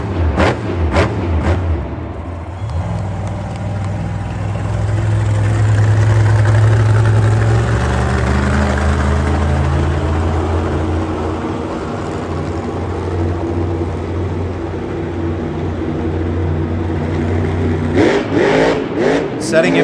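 A monster truck engine roars at full throttle at a Monster Jam stadium show in Detroit, a loud, sustained growl that swells and holds as the truck drifts through a turn. An announcer's voice comes through over the noise.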